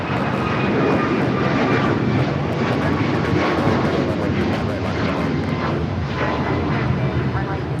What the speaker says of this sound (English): This is United Airlines 2443 taking off to Cleveland, Ohio on the MAX 9